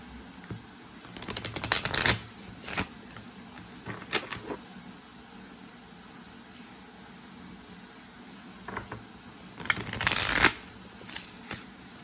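Tarot cards being shuffled in quick riffling bursts, one long flurry early and another later, separated by quieter handling and faint background hiss.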